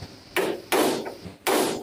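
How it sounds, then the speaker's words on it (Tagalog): Three sharp metal hammer blows strike a car bumper bracket as it is pulled straight during collision repair, each impact loud and close with a short ringing decay, spaced unevenly about half a second apart. "pinupukpok natin yan habang binabatak"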